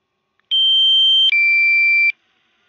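A DJI Mavic Air drone gives two sustained electronic beeps in a row, the first slightly higher-pitched than the second, clear and fairly loud against silence.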